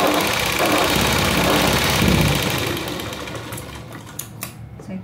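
Sewing machine running a steady double seam along a princess-cut blouse, a loud continuous whirring buzz that slows and fades after a few seconds, ending with a few light clicks.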